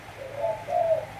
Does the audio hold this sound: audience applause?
no